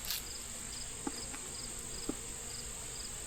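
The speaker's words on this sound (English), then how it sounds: "There is a ton of bees in here." Honey bees crowd a hive box infested with small hive beetles, their steady buzzing drone held close and even, with a couple of faint clicks and no talking.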